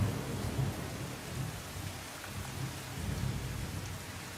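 Heavy rain pours steadily during a thunderstorm in Rajkot, Gujarat, with low rumbling thunder rolling underneath a dense, even hiss of rainfall on surfaces; no voices.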